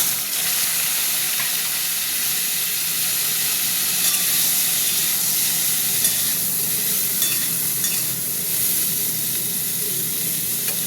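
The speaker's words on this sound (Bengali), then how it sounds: "তেল গরম হয়ে গেছে, ব্রোকলিগুলো দিয়ে" Broccoli frying in hot oil in a pan at home, giving a steady, dense sizzle and hiss that stays loud and even for the whole stretch, with no talking.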